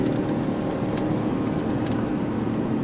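A Mercedes W211 E63 AMG runs on a race track, its engine holding a loud, steady, close drone throughout without a break.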